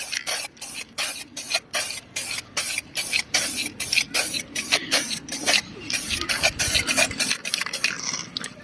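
Matte base-coat spray paint applied during the restoration of a water-damaged Fiat Stilo Abarth, heard as a rapid series of short, close hissing bursts with brief gaps between them.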